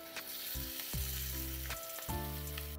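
Sliced okra hits hot oil with turmeric in a pan for a dry Maharashtrian bhindi stir-fry, bursting into loud, close sizzling with a few stirring scrapes and renewed hisses.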